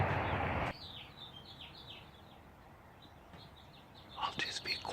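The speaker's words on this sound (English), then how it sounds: "there's a ton of birds singing." Birds singing at sunrise in Green Valley, Arizona, a series of quick chirping calls at moderate distance, preceded by a burst of breathy noise and followed by rustling handling sounds.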